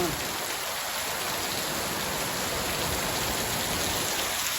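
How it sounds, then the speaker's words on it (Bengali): Steady rain falls in Malaysia, a continuous even hiss of drops on surfaces throughout, with no talk. "খালি বৃষ্টি হচ্ছে"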